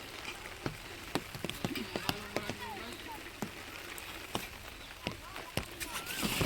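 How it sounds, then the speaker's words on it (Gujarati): Heavy rain patters on an umbrella overhead, with sharp individual drops tapping irregularly over a constant wet hiss nearby. "બહુ બધો વરસાદ પડે છે"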